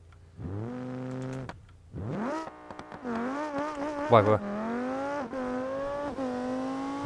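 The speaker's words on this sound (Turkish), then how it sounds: "oyunun en güçlü ve en hızlı kalkış yapan falan arabası olabilir" A powerful car in a driving video game revs and accelerates hard, its engine whining upward in repeated rising sweeps with gear-change dips, loud and close, with someone briefly speaking over it.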